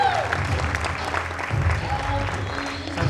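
Studio audience on a Marathi comedy show applauding a welcomed news editor guest, a steady dense patter of clapping throughout with a host's voice briefly over it.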